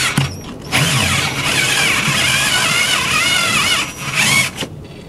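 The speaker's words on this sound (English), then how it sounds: "And then I'm going to drill a little bit." A power drill whirs steadily for several seconds, its pitch wavering as it bores through plastic, with a brief pause near the end before spinning again.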